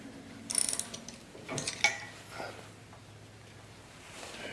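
A ratchet wrench loosens a nut on a post hole digger, with a few clicking, metallic ratcheting bursts and clanks, close by, followed by quieter handling noise.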